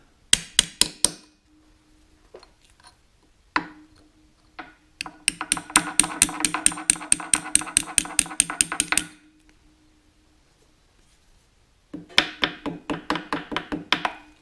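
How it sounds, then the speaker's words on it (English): Sharp metallic hammer strikes on a punch bending the long leg of a metal part during a Caterpillar D2 diesel engine assembly, a few single blows then long rapid bursts of tapping, with pauses between runs. "I'll use a hammer and a punch to bend the long leg"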